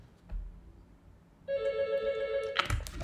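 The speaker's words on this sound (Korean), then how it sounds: "전화가 왔네요" A phone's electronic ringtone breaks into a recorded university lecture on international trade policy. It starts sharply partway through as a bright sustained melodic tone, followed by a clunk, with no speech.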